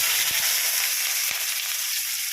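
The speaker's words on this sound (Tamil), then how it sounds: "ஃப்ரெண்ட்ஸ், இப்போ வெங்காயத்தை போட்டுடலாம்." Onions fry in a hot pan with a dense, continuous sizzling hiss, close and steady, with a couple of faint soft knocks and no voices.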